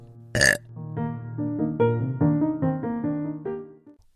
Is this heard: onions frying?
no